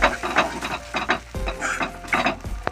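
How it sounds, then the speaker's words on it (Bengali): Scraping, rhythmic stirring of a salted dal filling in a pan for dal puri, with soft sizzling beneath and a few louder knocks of the spoon against the pan. "এটা নেড়ে যতক্ষণ একটু শুকনো শুকনো করা হবে ততক্ষণ আমি এটাকে লাড়বো"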